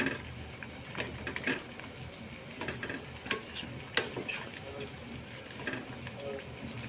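Homemade coconut hair oil with added ingredients heating in a pan, bubbling and crackling in faint irregular pops with light clicks, close but quiet.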